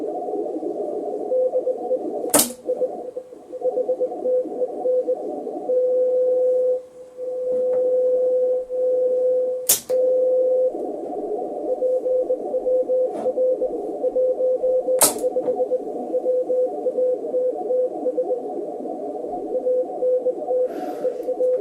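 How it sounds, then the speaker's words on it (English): Ham radio receiver audio from a Kenwood TS-990S and TS-590SG with noise reduction 2 on: a steady hiss-softened signal carries a faint intermittent tone, broken by three sharp clicks at intervals. "I've now turned on noise reduction 2 on both radios"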